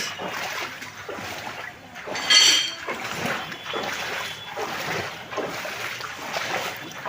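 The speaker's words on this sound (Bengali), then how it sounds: "জলের প্রচণ্ড আওয়াজ।" Floodwater rushes loudly and steadily through the Hatkhola crossroads in Motiganj, Bangaon, on a Sunday afternoon, a continuous broad roar with one brief surge and wind buffeting the microphone.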